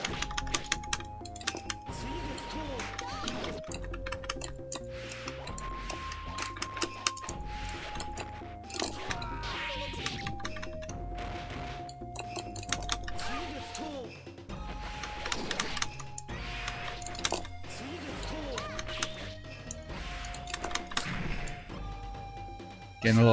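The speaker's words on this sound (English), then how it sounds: "My joystick clacking away here" An arcade joystick and buttons clacking rapidly during MVS gameplay, with irregular bursts of plastic clicks under the game's music and occasional talking.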